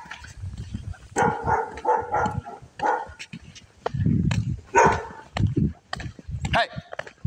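Dogs bark in short, loud bursts close by, mixed with people talking over them.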